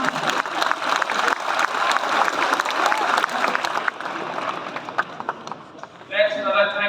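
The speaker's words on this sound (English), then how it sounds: "So, round of applause." Dense applause from a crowd at a Clare Munster minor championship celebration fills the first few seconds, then thins to scattered claps before a voice begins speaking.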